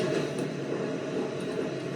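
Passengers ride inside a moving train carriage, where a steady, dense rumble and rolling rail noise fill the whole stretch without pause. No one speaks over it.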